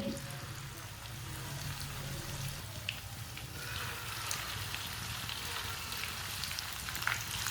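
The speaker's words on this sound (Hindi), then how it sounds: "ऑयल हमारा अच्छी तरह गर्म हो चुका है।" Aloo palak pakoras sizzle in hot oil with a steady, close crackling hiss that continues without a break, broken now and then by a few brief pops and spatters.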